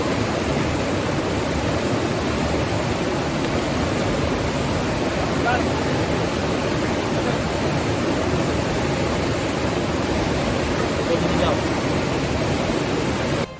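A river in the remote barangay of San Agustin, Valderrama, Antique, rushing in a loud, unbroken wash of water noise that stays even from start to finish with no voices.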